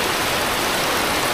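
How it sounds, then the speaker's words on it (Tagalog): Heavy rain pours down in a dense, loud, continuous hiss with no breaks, close and steady throughout the short stretch. "Ang lakas ng ulan, no?"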